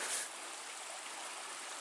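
Steady broadband rush of a creek flowing below a forested stretch of the Superior Hiking Trail, a constant close wash of water with no voices over it.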